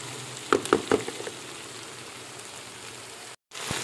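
Masala fish in a karahi sizzling quietly with a few clanking stirs near the start, then a soft steady fry that cuts out briefly near the end.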